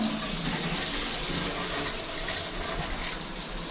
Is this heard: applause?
no